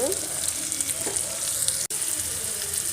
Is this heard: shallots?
yes